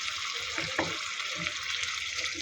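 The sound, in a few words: spices frying in a pan for egg korma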